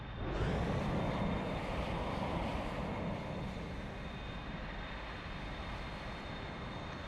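Lufthansa airliner taking off in Microsoft Flight Simulator 2024, a steady broadband jet engine roar that swells at the start and then holds, continuous and fairly loud, with no talking.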